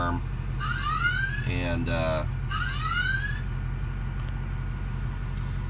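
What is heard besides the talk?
car alarm sounding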